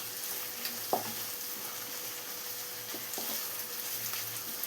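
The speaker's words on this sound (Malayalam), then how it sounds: "ഇതെല്ലാം കൂടെ ഒന്ന് വഴറ്റിയെടുക്കണം." Onions sautéing with curry leaves in a pan for egg rice, giving a steady even sizzle close by, with a few soft spatula knocks and scrapes now and then and no voices.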